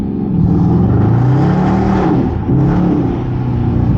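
Loud engine of a 2023 Dodge Charger R/T revving up and down nearby, the pitch climbing and dipping twice in quick succession.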